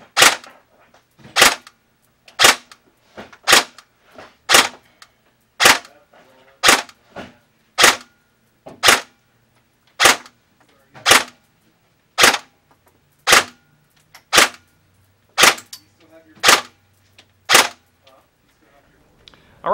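An ASG CZ 805 Bren airsoft rifle firing 0.2 gram BBs over a chronograph, one single snappy crack about every second, eighteen or so in a steady, even run, loud and close with nothing else in the way.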